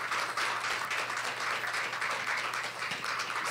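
An audience applauds at a California Truth & Healing Council gathering after a youth performance, steady dense clapping that fills the whole stretch without pause.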